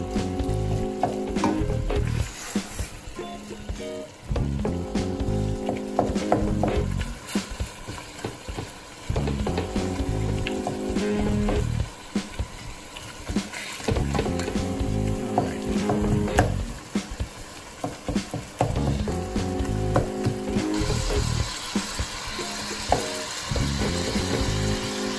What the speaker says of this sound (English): Making sure I'm flipping the beef pretty consistently so it doesn't burn at all.